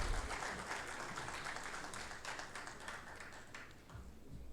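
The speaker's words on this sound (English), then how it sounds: "Can we please have a big round of applause for Mr. Alok Malik?" An event audience at a pharma marketing summit gives a steady round of applause for a speaker, a dense, even wash of clapping that carries on at moderate level throughout.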